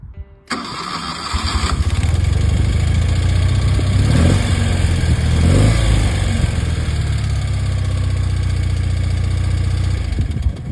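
A vintage BMW airhead motorcycle engine starts with a quick crank, then settles into a loud, close, rumbling idle with a couple of throttle swells.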